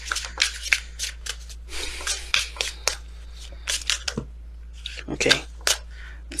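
Tarot cards being shuffled at close range, with repeated bursts of riffling and flicking crisp card stock while a voice talks over them.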